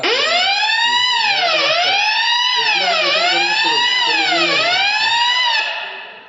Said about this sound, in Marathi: तर आता अलार्म सिस्टम कसं असतं आता वाजलं